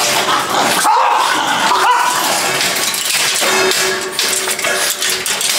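Several dogs bark and yip loudly and close by, over a dense, continuous noisy background.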